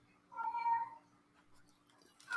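A house cat meows once, fairly close and clear, then goes quiet under faint room noise with a light rustle at the end.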